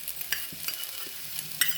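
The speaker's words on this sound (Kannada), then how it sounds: "ಇದೀಗ ಒಂದು ಸ್ವಲ್ಪ ಫ್ರೈ ಆಗಬೇಕು, 1 ನಿಮಿಷ." Potatoes and peas fry in a pan for tawa pulao, a steady close sizzle with a few scraping stirs of a spoon across the surface, no voices.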